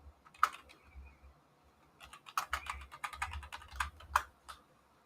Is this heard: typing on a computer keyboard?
yes